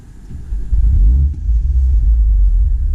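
A Mini F56 engine cranks and fires up nearby, a short starter churn followed by a deep, steady idle rumble that stays loud to the end of the clip.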